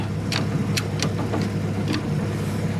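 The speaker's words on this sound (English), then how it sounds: "Now that I know that it actually drives and it runs, and the engine sounds good." A 1965 Jeep CJ5, left sitting for three years, with its engine running in a steady low hum, punctuated by a few sharp ticks and clicks.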